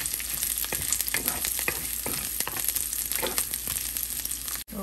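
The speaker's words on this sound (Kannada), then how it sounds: "ಒಂದು ಸ್ವಲ್ಪ ಈರುಳ್ಳಿ, ಆಮೇಲೆ ಚಿಕ್ಕದಾಗಿ ಕಟ್ ಮಾಡಿರೋ ಬೆಳ್ಳುಳ್ಳಿ, ಒಂದೆರಡು ಒಣಮೆಣಸಿನ್ಕಾಯಿ ಹಾಕ್ತಾಯಿದ್ದೀನಿ. ಸ್ವಲ್ಪ ಚೆನ್ನಾಗಿ ಫ್ರೈ ಆಗಲಿ." Onion, chopped garlic and dried red chillies frying in a pan, a steady close sizzle broken by light scraping stirs.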